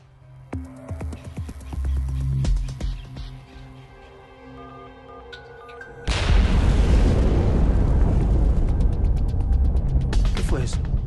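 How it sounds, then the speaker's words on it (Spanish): A loud, booming explosion erupts partway through and becomes a sustained roaring blast that drowns out the lighter sounds before it. "¿Una explosión? Sí, sí, sí, fue una bomba."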